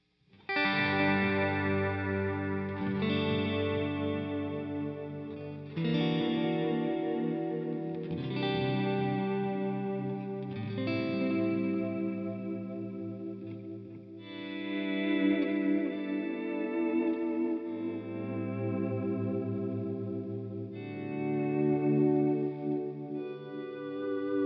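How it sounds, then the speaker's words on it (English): An electric guitar plays slow, ringing chords through a J. Rockett Boing reverb pedal set for a dark alien echo with a little warble. Each chord swells and trails into a long, wavering wash, with no voices. "So now I'll go ahead and roll the reverb into it."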